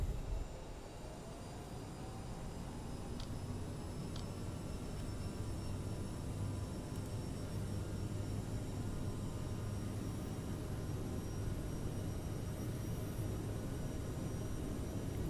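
A CRJ-900 jet in Microsoft Flight Simulator rolls down the runway for takeoff, giving a faint, steady engine roar and broadband rush with a thin high whine, continuous and without voices.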